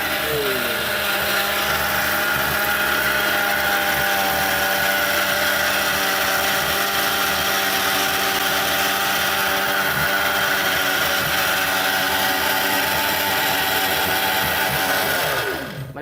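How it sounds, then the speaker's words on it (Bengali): A Ricco electric blender runs at its first speed with a steady loud motor whine and hum for the whole stretch, winding down abruptly at the end. "এটা হলো প্রথম স্পিড যখন আপনি ব্লেন্ডারটা চালাবেন হ্যাঁ দিলাম দেখেন কোন স্পিড দিলাম"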